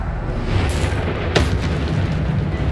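A Bombarda blasting spell goes off in the video game Hogwarts Legacy: a broad, rumbling explosion swells in, then a sharp crack lands midway, set against continuous loud game noise.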